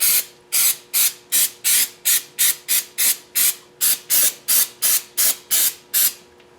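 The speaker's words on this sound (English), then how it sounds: "Spray a little on there." A rapid series of short, hissing aerosol spray bursts during a KA24DEAT engine rebuild, about fifteen in quick rhythmic succession, loud and close with brief pauses between.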